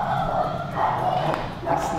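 A puppy gives a few short, high yips and small barks close by, mixed with emotional talking from people nearby.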